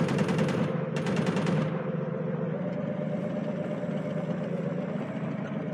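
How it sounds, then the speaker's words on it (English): Rapid minigun fire from Call of Duty Mobile gameplay, a dense buzzing burst that cuts off after about two seconds, leaving a steady low game engine drone. "Yeah, that's my minigun."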